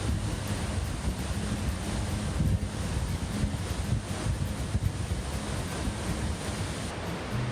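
Steady, dense rush of falling water from an Oregon waterfall fills the whole clip, broadband and constant with no voices, heard from close by.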